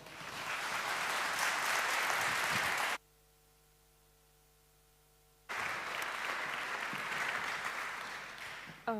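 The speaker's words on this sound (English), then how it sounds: "Round of applause, everybody." Conference audience at a Pride diversity and inclusion event in Cork bursts into steady, dense applause that stops abruptly, falls silent for a few seconds, then resumes just as full before fading.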